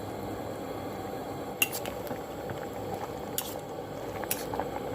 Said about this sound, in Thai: น้ำเดือดแล้ว